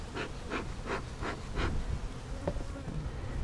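Bees in an opened, smoked-down hive give off a faint, low buzzing hum, with a series of soft, regularly spaced pulses early on, close and without talk.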